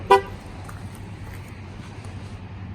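A 2019 Ford Ranger gives a single short horn chirp as it locks, sharp and clear at the start, followed by a low idle-like rumble and quiet background noise.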